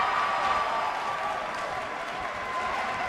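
A WWE 2K19 arena crowd cheers and applauds steadily at an NXT wrestling show in the game, a broad wash of clapping and crowd noise at a fairly even level throughout.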